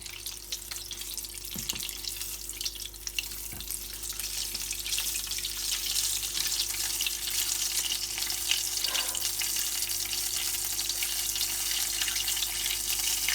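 Meatballs fry in a pan with a steady, close sizzle and crackle that holds evenly throughout, with no voices over it.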